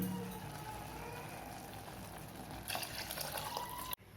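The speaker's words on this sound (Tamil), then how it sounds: "இப்போ இதில் அரிசி எடுத்த அதே கப்புக்கு 2 கப் தண்ணி ஊற்றிக்கலாம்." Two cups of water pour steadily into rice for vegetable biryani, a continuous splashing rush for about four seconds that cuts off abruptly at the end, with no talking.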